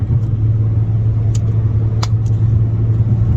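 A 2017 Nissan GTR making 850 wheel horsepower heard from inside on a ride along, its engine holding a loud, steady low drone with a few faint clicks over the rumble.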